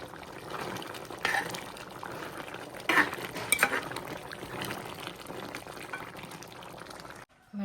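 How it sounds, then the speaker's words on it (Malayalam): Coconut milk poured into beef curry simmering in a pot, a steady bubbling, liquid wash with a few brief louder splashes and stirring clinks, close and fairly loud, no talking. "ഇത്തിരി തേങ്ങാപ്പാലും കൂടെ ഒഴിച്ചെടുത്താൽ നല്ലതാണേ"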